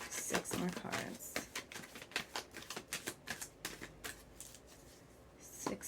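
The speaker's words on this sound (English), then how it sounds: "6 more cards for Cancer." Tarot cards are shuffled close by in a rapid series of crisp riffling slaps and flicks over several seconds, while someone talks quietly underneath.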